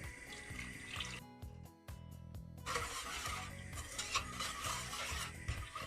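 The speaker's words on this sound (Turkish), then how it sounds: "Topaklanmaması için devamlı karıştıracağım." Milk is stirred continuously into a chocolate cake cream in a pot, making a close, wet swishing and scraping that runs throughout with occasional clinks of the spoon against the pan.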